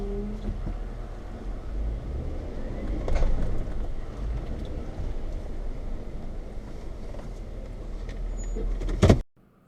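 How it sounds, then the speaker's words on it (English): A Jeep JL gets bumped out of slick snow with a kinetic rope: steady engine and vehicle rumble building through the pull, a thump near the end, then the sound cuts to quiet. "Watch here as I bump this JL out of some slick snow."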